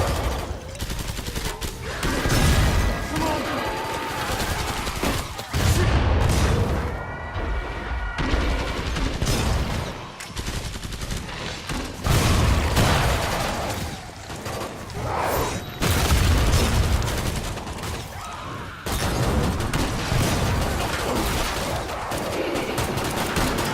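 Rockets launching and exploding in Killing Floor 2, a sustained barrage of booms and rapid gunfire with heavy low thuds, brief gaps between volleys, and near-constant loud combat noise throughout.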